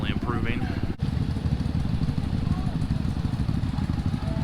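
Low rumbling motorcycle engines idling and running nearby at a street protest, a steady throbbing drone with a brief clatter and faint voices mixed in.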